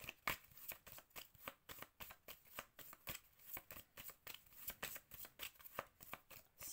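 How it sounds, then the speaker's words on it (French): Tarot cards are shuffled by hand in quick repeated riffles and slaps, a crisp papery rhythm of short bursts heard close and alone, with no talking. "je vais prendre encore quelques cartes"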